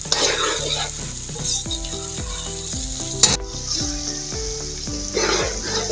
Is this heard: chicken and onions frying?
yes